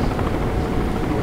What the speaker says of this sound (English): Ooh, we're really high in the helicopter.